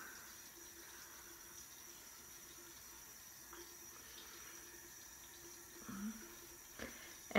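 Warm water runs from a sink tap as a faint, steady hiss close by, with a couple of small knocks near the end and no talk.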